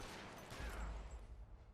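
Quiet, muffled burst of gunfire in the LA Noire video game during a chase, a short rumbling volley that fades out, no talk.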